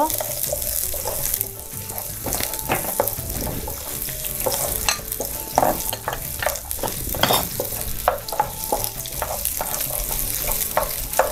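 Carrots stir-fried in a hot pan, steady sizzling and frying with repeated scraping stirs of a utensil against the pan, close and continuous throughout.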